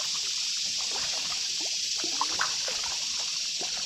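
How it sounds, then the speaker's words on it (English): A Lifetime kayak glides through the water of the wide Chipola River in northwest Florida, with soft, close trickling and dribbling paddle splashes over a constant hiss of moving water. "It's just a lifetime kayak, but it's a fairly stable kayak and cuts through the water pretty good."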